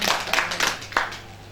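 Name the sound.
congregation clapping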